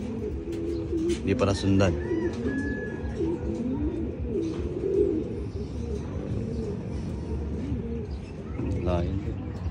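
Pigeons coo repeatedly in soft rhythmic phrases nearby, with a person talking over them at times.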